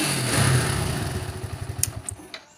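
A Yamaha Jupiter Z1 motorcycle engine roars at full throttle nearby, then winds down into a quicker, choppy putter as the revs fall, loud and close with no talk.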